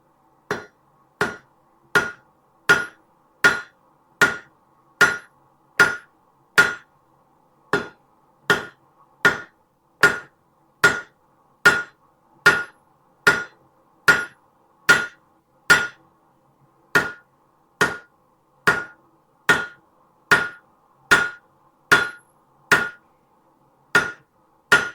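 Hammer blows on hot steel tapering a forged butter knife, a long steady run of sharp ringing strikes about one per second, close and loud, with one brief pause and no talking.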